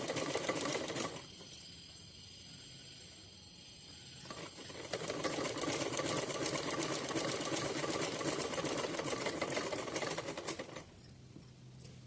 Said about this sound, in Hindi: अब जो हमने फैब्रिक कट किया था उसको हम ऐसे तिरछा करके सिलते हुए चलेंगे।